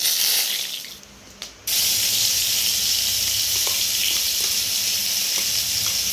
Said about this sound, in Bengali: আর শুকনো লঙ্কা, কালো জিরে আমি ফোড়ন দিয়ে নেব।